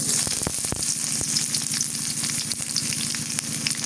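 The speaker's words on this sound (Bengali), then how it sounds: "আস্ত জিরা দিয়ে দিই পেঁয়াজ কুচি" Whole cumin and chopped onion sizzle and crackle steadily in hot mustard oil in a pan, with occasional sharp pops and stirring scrapes close by, and no voices.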